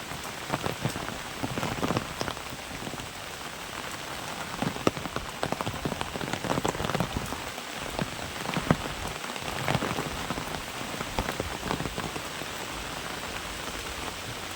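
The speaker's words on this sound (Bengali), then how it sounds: "দেখতে পাচ্ছেন সকাল থেকেই বৃষ্টি হচ্ছে" Steady monsoon rain pours onto a rooftop garden, a dense, continuous patter of drops hitting the roof and plants, evenly loud and close throughout, with no voices.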